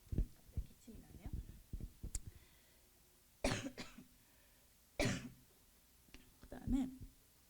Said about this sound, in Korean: 기침이 나네요.